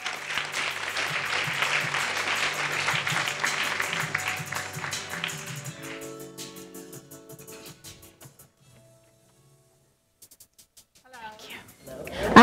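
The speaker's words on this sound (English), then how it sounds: "Let's give her a round of applause." Audience applause greets a finalist at an urban business storytelling competition, a dense round of clapping over stage music that tapers away into near silence before a few scattered sounds return.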